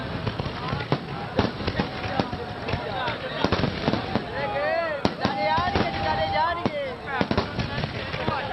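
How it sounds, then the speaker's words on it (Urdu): Fireworks display at night during a Sikh gurdwara celebration at Nankana Sahib, with repeated sharp cracks and pops in a steady barrage and whistling rockets rising through it, while crowd voices are heard throughout. "رات 2 بجے آتش بازی کا شاندار مظاہرہ کیا گیا۔"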